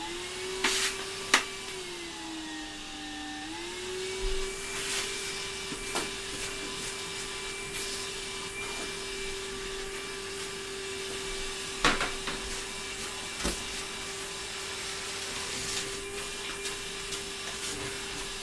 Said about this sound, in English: Check out the turbo on the Hoover.